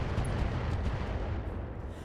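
Mech weapons fire in the RogueTech video game, a dense, loud roar of overlapping blasts and rumbling impacts that holds steady throughout with no voices.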